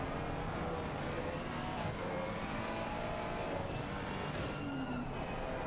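Lamborghini GT3 race car engine in a sim racing game at Barcelona, a steady loud drone with shifting harmonic tones of cars running together, continuous throughout with no talk.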